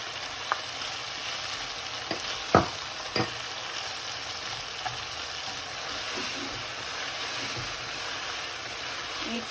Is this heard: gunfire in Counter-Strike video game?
no